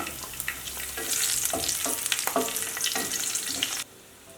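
Grated ginger, green chillies and cashews sizzle and fry in a pan, with steady crackling and several distinct stirring scrapes, then the frying stops abruptly near the end.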